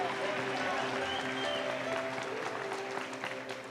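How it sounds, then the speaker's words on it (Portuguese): A church congregation applauds in a steady, sustained wash of clapping with voices mixed in, fairly distant and even throughout. "vamos aplaudir a Jesus nessa hora"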